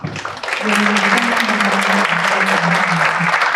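Steady applause from a conference audience at an energy technology event, dense and loud with sustained clapping after a short lead-in, a tonal voice-like hum running faintly beneath.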